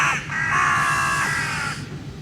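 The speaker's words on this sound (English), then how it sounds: "There's like crows killing each other." Crows caw harshly and continuously as two of them attack and knock down a third, making a loud, raucous outburst lasting about two seconds.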